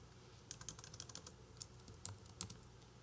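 Keys tapped on a computer keyboard while a design name is typed into BERNINA embroidery software: a quick, irregular run of soft, close clicks, faint and alone.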